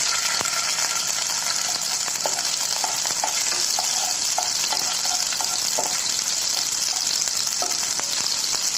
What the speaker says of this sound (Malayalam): ഇനി അടുത്തതായിട്ട് നമുക്ക് മുന്തിരി വറുത്തെടുക്കാം കേട്ടോ